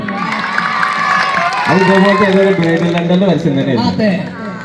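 A large crowd cheers and shouts with loud, sustained energy, excited voices and whoops rising together and swelling in the middle before easing slightly toward the end.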